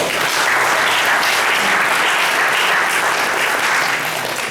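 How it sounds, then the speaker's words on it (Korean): An audience at a lecture applauds loudly and steadily, a dense wash of clapping throughout. "큰 박수로 환영해 주십시오"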